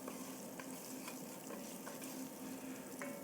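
Vegetables sizzling in oil with pepper, salt and garlic, stirred in a pan as soup is started, a quiet steady frying hiss broken by regular scraping strokes.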